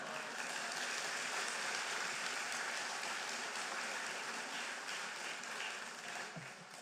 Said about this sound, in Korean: 여기서 박수.